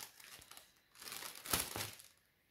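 Plastic packaging crinkles and rustles in a few close bursts, with quieter pauses between handlings and no talking.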